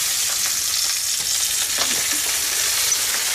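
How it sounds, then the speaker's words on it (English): Rabbit meat searing in hot ghee, giving a steady, dense sizzle that holds at an even loudness throughout, close up, with faint stirring or scraping touches and no talking. "With any meat, we want to seal it before we add it to liquids."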